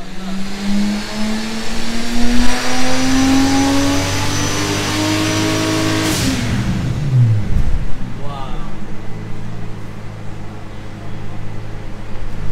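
A tuned 700 bhp Nissan Skyline R33 engine climbs steadily under load on a dyno, its pitch rising for about six seconds before abruptly dropping off and winding down to a lower hum, loud and close.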